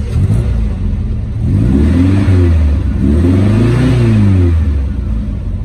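A 1971 VW Beetle's engine revving through its exhaust, loud and close, with two rising and falling throttle blips over a steady rumbling idle.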